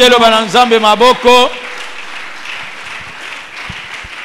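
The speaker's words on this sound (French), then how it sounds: "Est-ce que nous allons acclamer pour la parole de Dieu que nous voulons écouter?" After a voice sings or calls out, a church congregation bursts into steady, broad applause at an Easter celebration service, the clapping continuing at an even level to the end.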